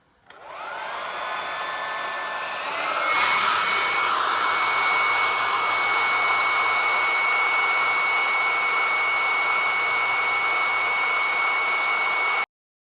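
A hair dryer fitted with a diffuser runs steadily close by while drying hair after wash day, a continuous loud whooshing hum with a steady whine that rises in pitch and power after a few seconds, with no talking.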